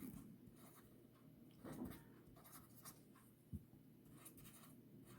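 A pen scratches across paper as words are written out by hand, soft irregular strokes and scribbles with an occasional tap, quiet and close, with no speech.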